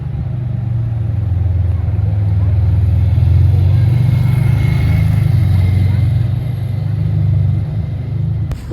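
A red Ferrari 550 Maranello passes close by in Saint-Tropez, a loud, deep engine rumble that builds steadily toward the middle and holds before easing off, with voices faintly underneath.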